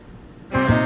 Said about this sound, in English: has been meowing at me all day.